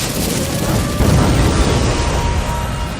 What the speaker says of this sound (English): Fire style! Flame bomb!